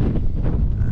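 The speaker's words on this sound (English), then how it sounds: "It's quite windy." Strong wind buffets the microphone on open Kinder Scout moorland, a loud, continuous low rumble with gusty surges throughout and no one speaking.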